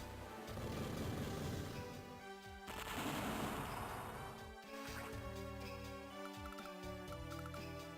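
Machine-gun fire in the handheld strategy game Advance Wars: Dual Strike, rapid rattling bursts in two loud stretches with a crash, over looping game music.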